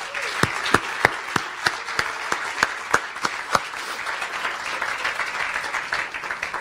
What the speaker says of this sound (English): a big round of applause to those children